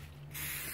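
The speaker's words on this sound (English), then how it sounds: "let me spray this pan here." Cooking spray sprayed onto a baking pan for dinner rolls, a single short, close hiss starting abruptly after a brief quiet moment.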